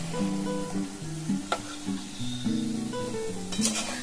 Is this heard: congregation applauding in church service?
no